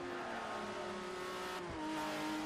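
A rear-wheel-drive car in Forza Horizon 4 takes a handbrake turn, its engine droning steadily as the pitch dips and then rises again through the corner, with no talk.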